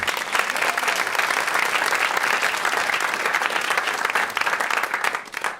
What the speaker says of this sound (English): Give yourselves a round of applause for making the trek.